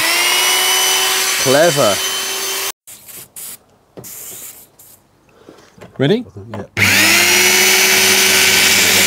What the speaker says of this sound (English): It's a drill with a drill bit attachment on there.